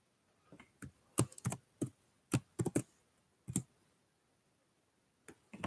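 Typing on a computer keyboard: scattered bursts of sharp key clicks in short clusters, close and fairly quiet, with pauses between runs and no talking.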